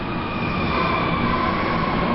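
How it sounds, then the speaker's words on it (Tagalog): A rumbling ride aboard a Manila MRT metro train, a steady close roar of wheels and carriage with a faint tonal whine running through it. "Dito kami sa MRT, tapos ayun, sakay namin."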